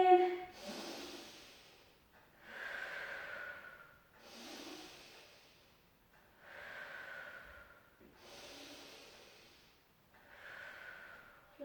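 Slow, deep breaths in and out during a barre exercise, close and clear, repeating in a steady rhythm about every two seconds with soft airy rushes and no talking.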